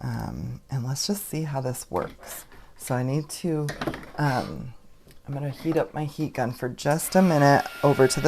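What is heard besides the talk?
None of the usual background noises is heard.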